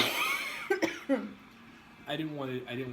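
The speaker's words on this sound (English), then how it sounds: "My cough is so dry and so horrible." A few short, harsh dry coughs come in a quick cluster, followed later by a voice talking.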